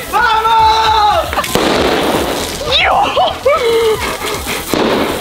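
Firecrackers popping during a street firecracker battle, sharp bursts and crackles mixed with whistling fuses and excited shouting voices throughout.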